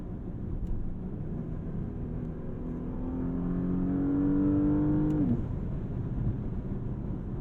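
Base 2021 Porsche Panamera engine droning under a gearbox downshift, with a rising tone that briefly blips and drops near the end, heard from inside the car over steady road noise.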